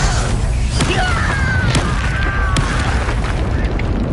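Confringo fire spell exploding in Hogwarts Legacy, a heavy booming blast with sharp crackling snaps over a continuous loud rumble.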